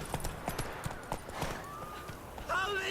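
Roach, the horse in The Witcher 3, gallops with steady hoof clip-clops in a rapid rhythm, fairly close and moderately loud, with a voice speaking over the hoofbeats.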